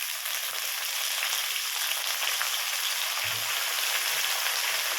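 Brinjal pieces and curry leaves hitting hot oil with softened onions in a pan, a steady loud sizzle and crackle throughout, close and continuous, with a brief clink of utensil partway.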